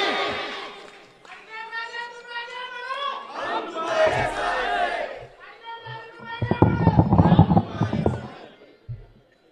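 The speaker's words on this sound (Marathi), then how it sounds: "जोरदार एकदा टाळ्या" Crowd at a political election campaign rally bursts into loud cheering and applause, with chanting voices and dense clapping building over the last few seconds, after a stretch of raised shouting and loudspeaker talk.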